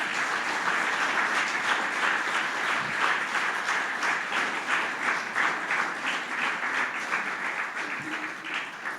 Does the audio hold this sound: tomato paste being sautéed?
no